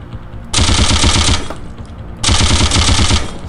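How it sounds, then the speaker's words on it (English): Machine gun fire in the video game Postal 2, two loud sustained bursts of rapid automatic shots separated by a short pause, close and dominant. "with my machine gun, I shoot him up"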